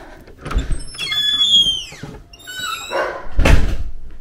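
A stable door creaks open with long, high squealing hinge squeaks in two drawn-out bursts, ending in a heavier knock; close and fairly loud, without speech.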